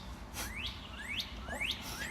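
Birds whistle a repeated rising call, four or five times in a steady rhythm, fairly clear against quiet background hiss.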